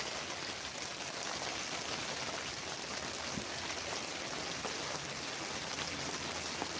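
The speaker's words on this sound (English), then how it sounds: "It's raining harder." Steady, dense rain pouring down on a hot tent, a constant broadband hiss with scattered drops pattering close by throughout.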